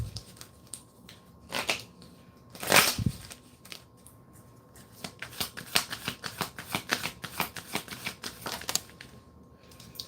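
Angel cards being shuffled and drawn by hand: close, crisp riffling and flicking bursts, some louder card snaps, in an otherwise quiet room.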